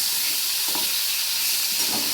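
Pointed gourd (potol) frying in oil, a constant bright sizzle close to the pan with faint soft bumps of stirring underneath.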